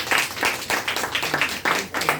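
An audience claps loudly at a Hindi-language DXN health product testimonial gathering, a steady, dense patter of many hands that keeps up for a couple of seconds.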